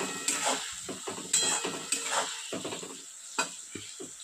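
Carrots and beans frying in a pan, soft sizzle with intermittent scraping and stirring knocks of a utensil against the pan, close and fairly quiet.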